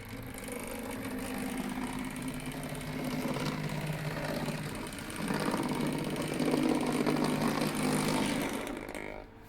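A Hornby Caledonian Single model locomotive's small electric motor whirs steadily in reverse with a mechanical hum, growing a little louder midway and continuing evenly before stopping at the end.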